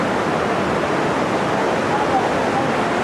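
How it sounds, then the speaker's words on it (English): Tumpak Sewu waterfall in Indonesia roaring steadily, a dense even rush of falling water heard up close, with a voice talking briefly over it. "That's the waterfall."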